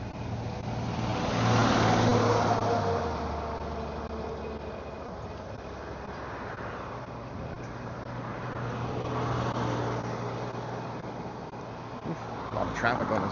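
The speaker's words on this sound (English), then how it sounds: "A lot of traffic on this road." Road traffic passes a cyclist on a busy road on the Mt Newton trail loop, with vehicles swelling and fading twice over a constant rumble of wind and road noise.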